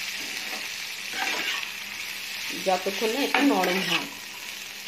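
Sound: frying green chilli and chopped cabbage in pan

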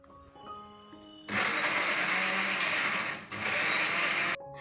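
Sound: mixer grinder (mixie) grinding spice paste

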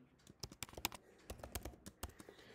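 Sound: typing a password on a computer keyboard

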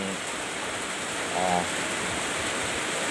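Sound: heavy rain falling

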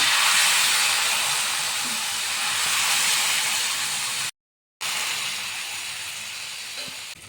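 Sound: jowar flour batter cooking on a hot pan

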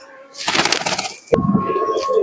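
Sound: pigeons cooing at a pigeon sale

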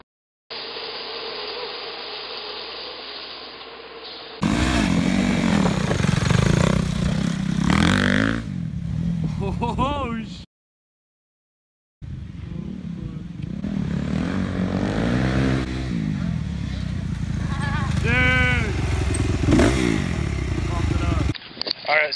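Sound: dirt bikes riding at a motocross track

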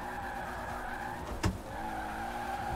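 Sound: stock car engine and skidding in Forza Horizon 4 video game

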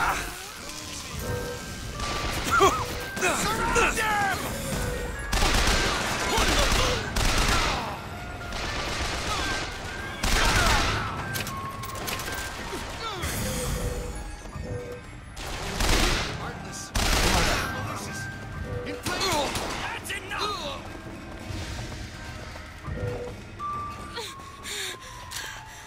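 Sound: gunfire in the video game Bioshock Infinite

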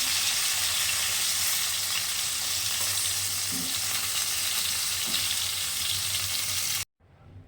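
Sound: catla fish frying crisply in oil

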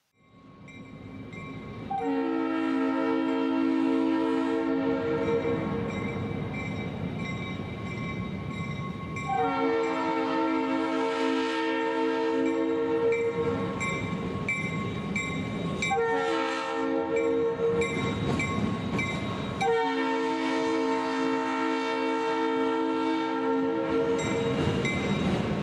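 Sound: Union Pacific GP35 locomotive RS3L air horns

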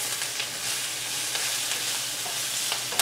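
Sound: vegan ramen noodle stir fry sizzling in pan

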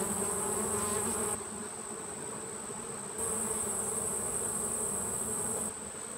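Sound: honey bee colony buzzing during hive inspection

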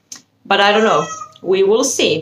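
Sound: cat meowing

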